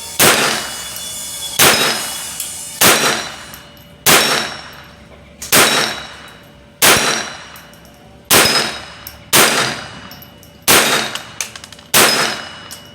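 Ten evenly spaced shots from an HK416 .22LR pistol at a 25-yard range, each a sharp crack followed by a ringing metallic clang from steel targets, loud and close.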